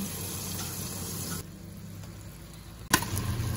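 Garlic, onion and ham frying in a pan, a steady broad sizzle that drops quieter midway, then a brief clatter before the sizzle swells again.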